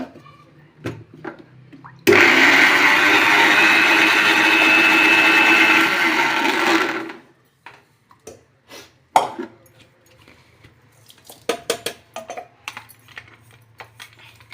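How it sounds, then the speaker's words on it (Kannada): A mixer grinder whirs loudly and steadily for about five seconds, grinding roasted niger seed (gurellu) into a dry chutney powder, then cuts off, leaving scattered clicks and taps from handling the jar. "ಮತ್ತೆ ಏನೋ ಸಾರ ಮಿಕ್ಸಿ ಮಾಡ್ಕೋಬೇಕಿನ್ನ"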